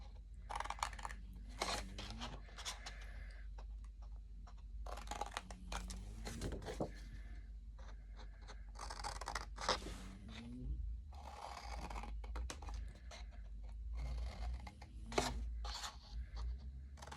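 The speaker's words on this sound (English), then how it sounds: "Just cut out these little boxes, leaving the one that's in the center." Scissors snip and rasp through paper while cutting out small boxes for a DIY paper tray, a series of faint, close crisp cuts in uneven bursts with short pauses between them.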